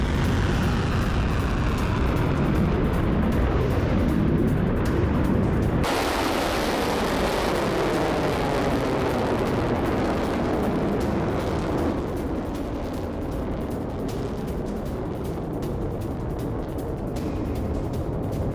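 An Iranian Fateh missile strike on Israel sets off a sustained, loud roaring rumble of explosions and fire. Broadband noise persists throughout with a sharp shift partway through, and no voices are heard.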